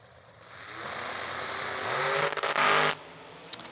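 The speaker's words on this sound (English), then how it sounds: "Whomping the throttle down there." Drag racing cars launch hard down the strip at a bracket race, engines roaring and rising as the throttle is floored, loud and building over about two seconds before cutting off abruptly, with no talk over it.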